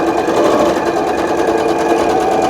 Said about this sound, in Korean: 재봉틀 끄고